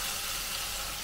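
Chicken pieces dropped into a hot kadai hiss and sizzle steadily, a loud, even frying crackle with no talking.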